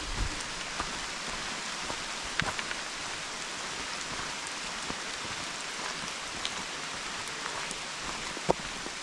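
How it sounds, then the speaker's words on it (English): Steady rain falls along a flooded creek trail on a rainy day without thunder, a dense, even patter close around, with scattered louder drops striking nearby surfaces throughout. "it is not thunderstorm, so it's just rain"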